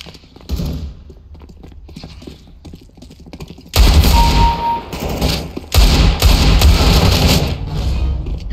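Bursts of rapid pistol gunfire hit enemies in the video game Pain, loud sharp shots clustered in volleys, with quieter clattering stretches in between.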